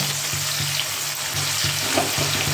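Onions frying in a pan for a chicken kofta curry, a steady close sizzle with faint soft clinks and stirring knocks, no voices.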